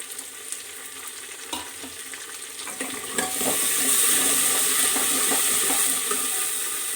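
Lightly browned onions fry in a pan as tomatoes and green onion are added, the sizzle jumping sharply partway through into a loud, steady hiss.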